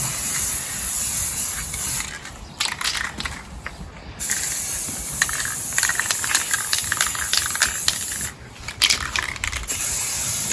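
Paint sprayer coating a box outdoors on a windy day, a loud continuous hiss broken by brief pauses between passes, with rattly bursts as the spray starts and stops.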